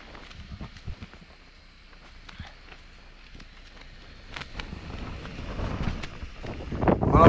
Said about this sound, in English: and oh, this wind.